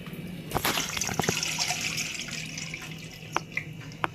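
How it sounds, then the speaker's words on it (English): Tap water runs into a cooking pot being readied for boiling chopped potatoes, a steady close splashing stream with a few sharp clinks and knocks of the pot, no talk. "Prepare a pot filled with water"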